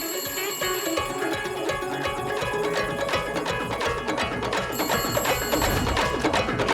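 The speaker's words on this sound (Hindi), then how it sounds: "उस नंबर पर दूसरे नंबर से कॉल आ रहा है।" A telephone bell rings repeatedly amid dense, loud background music, its bright tones recurring steadily throughout.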